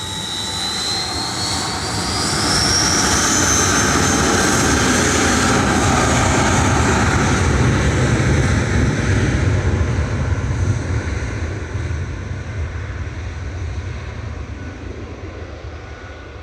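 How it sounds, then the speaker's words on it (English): A jet airliner departs Manchester Airport on a shuttle flight to Heathrow, its engine roar swelling after two seconds into a loud, sustained broadband rumble with a rising whine, then slowly fading as it climbs away. "Shuttle 3 Zulu departed to Heathrow with flight"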